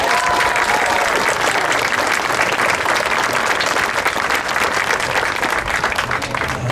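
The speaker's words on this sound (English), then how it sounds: "let's have a big round of applause" A crowd gives sustained, loud, dense applause at an outdoor event for the 2019 Rochester fountain, steady clapping throughout with a faint whistle near the start.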